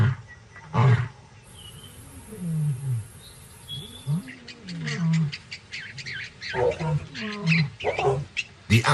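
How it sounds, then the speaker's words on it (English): A wild male lion in African savanna territory roars in deep, repeated rumbling bursts close by, with birds squawking and a faint high insect whine behind. A narrator talks between the roars. "A lion's roar can be heard up to 8 kilometers away."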